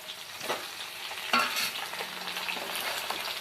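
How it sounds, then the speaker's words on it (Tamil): Onions sauté in a pan as the base for a fish curry, sizzling steadily with scrapes and stirring knocks from a spoon, including one sharper clack near the middle. No one speaks. "நல்லா வெங்காயம் வதங்கினதுக்கப்புறம் தான் தக்காளி சேர்க்கணும். அது வரைக்கும் வதங்கட்டும்."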